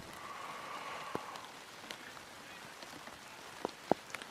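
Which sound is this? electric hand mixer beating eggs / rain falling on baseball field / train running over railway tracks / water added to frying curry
rain falling on baseball field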